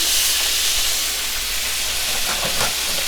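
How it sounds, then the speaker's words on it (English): Smash burger patties hitting a hot griddle give off a loud, steady, close hiss of sizzling fat that holds evenly throughout, with no talking. "So I'm gonna put my patties on"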